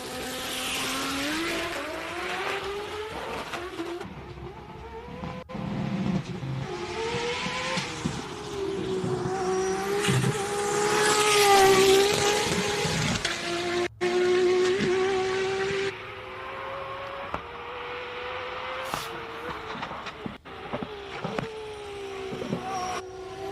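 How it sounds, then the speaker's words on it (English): A very loud race car on a hill climb run roars through the gears, its engine pitch climbing and dropping through repeated shifts with sharp cuts and crackles, passing close and then fading as it moves away. "It is the loudest car ever that you could ever hear."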